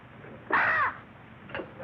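A crow gives one loud harsh caw, close and clear, followed by a faint second call over quiet background hiss in a 1950 film scene.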